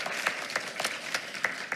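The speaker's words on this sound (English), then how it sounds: "Okay, one more round of applause." Applause at a school board meeting, fairly quiet and distant, a sparse patter of clapping with scattered sharper claps standing out, little else heard.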